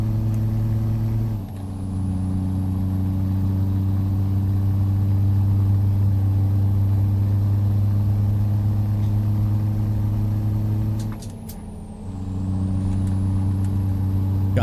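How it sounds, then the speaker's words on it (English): A heavy truck engine in the game American Truck Simulator rumbles loud and steady, dipping twice during gear changes with a brief hiss, otherwise holding a constant low drone. "Gosh, this truck sounds so good."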